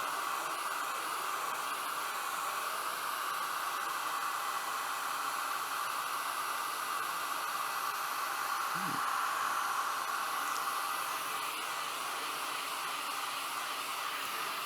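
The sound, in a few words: hair dryer drying finish on a wood-turned piece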